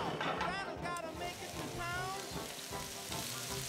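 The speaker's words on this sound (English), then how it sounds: "in a skillet, roll out golf ball sized meatballs and brown on all sides" Elk meatballs browning in a skillet give a steady, close crackling sizzle of hot fat, with a person talking over it.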